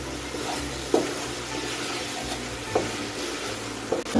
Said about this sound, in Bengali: ডিমের সঙ্গে একটু মশলাটা দিয়ে ডিমটা ভালো করে একটু কষিয়ে নিচ্ছি।